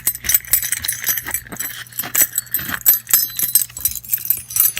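Keys jingle and jangle repeatedly in a key holder, a series of close, bright metallic clinks and rattles in irregular bursts, with no talking.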